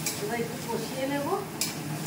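Vegetables sautéing in a pan with turmeric and chili powder, giving a soft continuous sizzle and stirring scrapes, with a brighter clink near the end and faint background voices.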